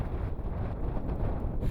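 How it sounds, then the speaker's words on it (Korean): Strong wind in Antarctica buffets the icebreaker Araon, a low, rough roar of gusts pressing against the microphone with slight rises and falls. "그런데 오후에 들어서면서 바람 소리가 커지기 시작했다."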